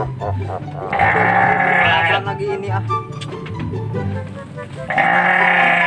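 A goat bleats loudly in long wavering cries, once early and again at the end, with people talking in between.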